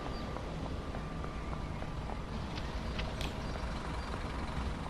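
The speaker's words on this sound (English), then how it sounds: "There's some buses over there." Buses idle near a bay platform at a station on the Main-Spessart Bahn in Train Sim World, giving a steady, moderately distant engine rumble with faint higher clatter throughout.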